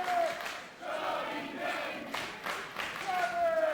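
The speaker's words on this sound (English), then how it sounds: "Crowd chanting for the champ" A wrestling crowd at a live event chants for the champion, Chubby Daddy, in a steady, swelling roar of many voices that rises and falls in waves, filling the arena with no single speaker.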